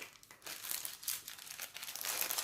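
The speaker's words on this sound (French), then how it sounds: "je remets bien comme il faut dans l'emballage" A diamond painting canvas is worked back into its plastic packaging, making soft, quiet crinkles and rustles in uneven bursts, close by and with no talk.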